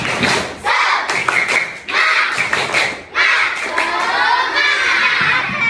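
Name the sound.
audience clapping, tepuk semangat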